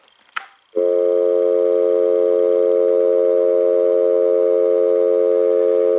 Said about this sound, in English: Can you hear the dial tone perfectly?